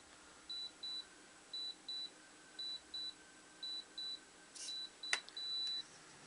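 A radio transmitter for an Esky Belt CP V2 RC helicopter beeps while binding, short electronic beeps repeating in evenly spaced pairs, then a sharp click and a longer tone close by.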